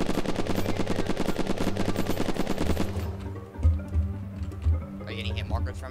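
Rapid automatic gunfire in the survival video game Unturned during a base raid, a dense continuous burst for about three seconds, then scattered shots and heavy thuds as players talk over it.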